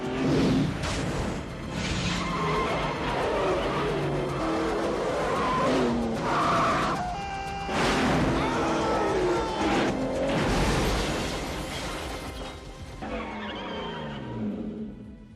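Car skidding in a film scene, with sustained loud tire squeals and engine roar swelling and fading over a busy, dense soundtrack.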